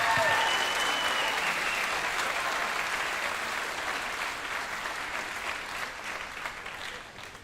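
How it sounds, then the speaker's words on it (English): Audience applause at a spring concert, a dense, steady roar of many clapping hands filling the hall and slowly fading a little over several seconds. "please, let's everybody give Chloe a round of applause for her time with the Jesuits"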